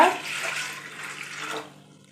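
Water pours steadily into a metal idli steamer pot for about a second and a half, then trails off into quiet.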